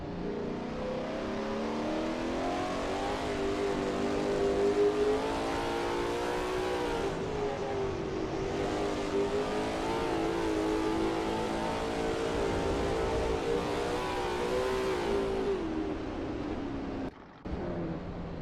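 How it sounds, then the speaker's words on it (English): Lola T70 MkII Spyder race car in a racing video game at Bathurst, its engine droning loud and steady as it drives through the cutting, pitch rising and falling with the throttle, with a brief dropout near the end. "That ASRL T70 MkII Spyder looks good driving through the cutting."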